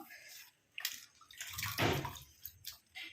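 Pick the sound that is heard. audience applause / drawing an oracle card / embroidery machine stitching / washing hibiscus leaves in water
washing hibiscus leaves in water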